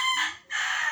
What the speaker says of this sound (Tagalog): At dahil nagkahalak yung isang manok natin